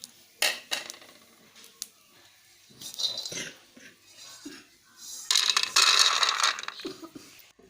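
Roasted peanuts are scraped and tipped out of a metal pan, with scattered clinks, rattles and a longer rushing pour of nuts, each burst loud and close.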